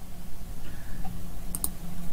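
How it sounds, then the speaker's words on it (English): A pair of quick, sharp mouse clicks sounds close up over a quiet room hum, each click crisp and brief, with a faint tick just before them. "I can choose not to send to one of those just by clicking the X on this"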